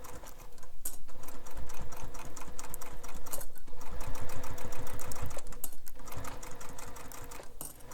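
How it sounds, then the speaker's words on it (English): A sewing machine top stitches along the curved edge of a bowler bag in one long steady run, its needle chattering in a fast even rhythm, close and loud, with brief pauses near the start and end. "And then we're going to top stitch this curved edge."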